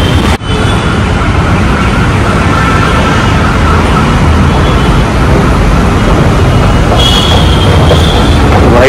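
A metro train arriving at a station rumbles steadily close by, a continuous low roar of wheels on rails with a brief high squeal near the end.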